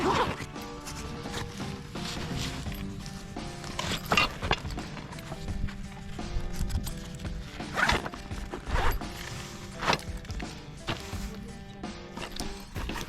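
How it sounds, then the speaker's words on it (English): A camping kitchen kit bag is zipped shut, with repeated zipper pulls and clattering handling knocks from the packed pan, chopping board and handle, fairly close and busy throughout. "zip it up"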